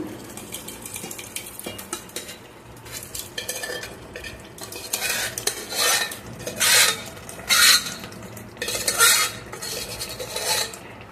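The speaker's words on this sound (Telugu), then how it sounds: "ఉడికించిన కందిపప్పు వేస్తున్నాను" Boiled toor dal going into a pot for drumstick pappu charu and being stirred, with scraping and clattering of a metal spoon against the pot that grows louder in bursts, over a faint background sizzle.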